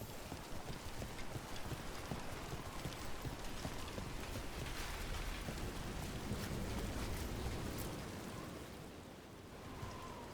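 Steady rainfall in the video game Dragon Age Veilguard, a dense even hiss of drops spread across the whole clip with a slight dip near the end, no voices over it.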